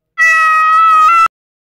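A single drawn-out cat meow from a video game built in the Unity engine, close and clear, lasting about a second and ending abruptly, with no talk over it.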